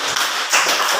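A classroom group claps for a fellow group of students, a short burst of fairly loud, dense hand claps with a brief dip before rising again, heard close by.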